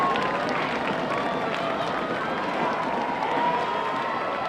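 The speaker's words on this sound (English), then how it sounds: "Crowd is rumbling once again." A high school football crowd at a Newton South game rumbles before a kickoff, a steady, dense wash of murmuring voices and stadium noise that stays level from start to finish.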